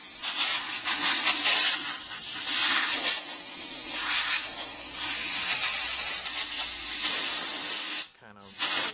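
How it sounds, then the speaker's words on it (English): An air hose blows a strong, loud hiss of compressed air into a Kawasaki KLX140L air filter, in bursts and steady blasts up close, with a short pause near the end before the blast resumes. "one thing you could do is get an air hose."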